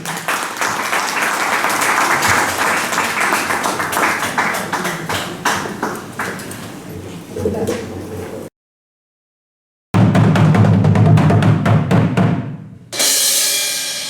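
A crowd applauds with dense, sustained clapping to welcome a small ensemble at a Bucheon folk storytelling event held in a subway station gallery; the applause stops abruptly, then louder rhythmic sounds follow.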